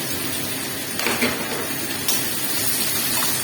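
Sliced onions frying in hot oil for birista, a steady broadband sizzle running throughout, with a couple of brief clatters or stirs partway through.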